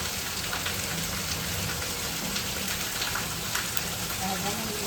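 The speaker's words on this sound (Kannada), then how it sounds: "ಮಳೆ ಬಂತು ಆಯ್ತಿದ ಭಾಳ ಮಳೆ" Heavy rain falls in a continuous, thick wash of patter and hiss, steady in level from start to finish.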